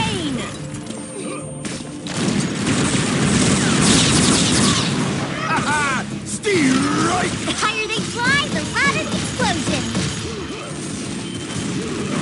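Explosions, crashes and gunfire in a match of the video game Unreal Tournament 2004 burst over one another in a dense, continuous stretch of loud combat noise.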